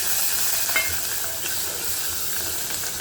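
Cumin, fenugreek and asafoetida fry with onions in a pan, giving a soft steady sizzle and hiss while a utensil stirs and scrapes, with no talking.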